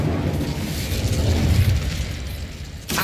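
Incendio fire spell cast in Hogwarts Legacy, a roaring, rumbling burst of flame that holds steady for about three seconds, loud and close, with a brief sharp swell right at the end.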